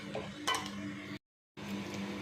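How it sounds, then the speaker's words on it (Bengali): Utensil scraping and clinking in a pan as torn pieces of leftover roti are stirred together with vegetables, a brief metallic scrape early on, then a short gap, with a low steady background. "এবার হাফটার মধ্যে এই টুকরো করে কেটে রাখা রুটিগুলো দিয়ে দিচ্ছি, দিয়ে আবার সবজির সঙ্গে ভালো করে মিশিয়ে নিচ্ছি।"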